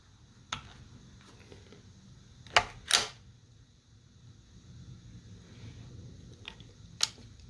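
The short-throw bolt of a Winchester Model 43 bolt-action rifle is worked, giving a few faint metallic clicks and a quick double snap in a quiet room, with no talking.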